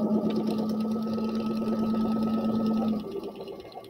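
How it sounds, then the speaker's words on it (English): A sewing machine stitches fabric for a paper-pieced teacup quilt block, running as a steady close whirring hum for about three seconds before slowing and stopping. "It's definitely hard to sew on camera."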